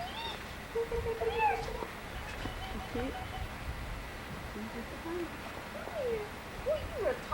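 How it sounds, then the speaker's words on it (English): Cat on a 1989 trip to New Orleans giving several faint meows spread through the clip, over outdoor background noise with people talking. "it's a kitty cat"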